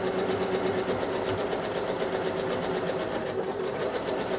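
Sewing machine stitching a quilt block, running continuously at a steady rapid pace with an even mechanical whir close by, no talking over it.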